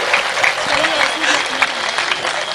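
An audience at a poetry event applauds in a dense, steady burst of clapping that stays loud for the whole stretch, with a voice faintly mixed in.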